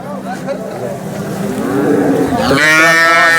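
Cows at the Sangola cattle market give a loud, close, drawn-out moo toward the end, rising over a continuous murmur of market crowd noise and voices.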